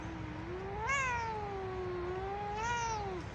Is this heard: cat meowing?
yes